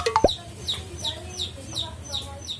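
A chicken lets out a couple of quick squawks, then settles into a steady run of short, evenly spaced clucks, close and clear.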